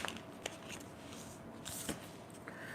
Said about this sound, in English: All right, so let me shuffle, and then I'll get into the next question.